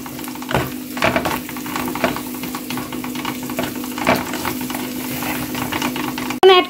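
Green chillies and Maggi noodle masala frying in a pan, a steady close sizzle with scraping stirring strokes throughout and a sharp clatter at the very end.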